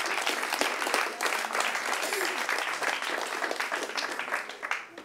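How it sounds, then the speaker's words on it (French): A studio audience applauds as a woman walks up, sustained, close, full clapping that carries on evenly for several seconds before easing slightly at the end. "On l'applaudit pendant qu'elle arrive"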